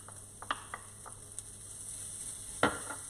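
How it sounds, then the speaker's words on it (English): A steady sizzle of ginger and onions frying in a pan, with occasional clinks and scrapes of stirring. "the ginger and onions have been frying for a couple of minutes"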